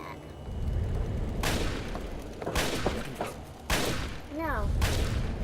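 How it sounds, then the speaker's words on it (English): Gunfire at a shooting range in Fallout 3: several loud bursts of shots spaced across a few seconds over a steady low rumble of game ambience, with scattered chirping tones. "Who are they shooting at?"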